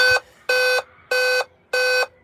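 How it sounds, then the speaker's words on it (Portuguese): A Dell laptop that won't start gives four loud, identical electronic beeps at a steady pace, each about a quarter second, separated by brief silences. "3 bips é problema de memória"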